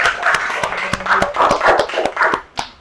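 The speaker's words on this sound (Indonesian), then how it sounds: "Tepuk tangan." A group of students in an Indonesian classroom claps together in a steady, rhythmic pattern of sharp hand claps, close and fairly loud, with a little background voice.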